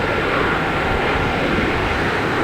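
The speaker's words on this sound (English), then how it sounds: "We have Aero Mexico coming in, landing next to Lufthansa, A340" Airliners landing side by side at Boston Logan, an Aeromexico jet and a Lufthansa A340, heard as a loud, steady engine roar that stays constant throughout.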